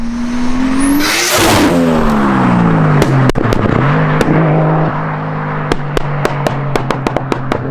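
A Toyota Supra MK4 drives and accelerates, its loud engine note climbing, dropping at a shift, then pulling again, with sharp clicks and pops heard from close by.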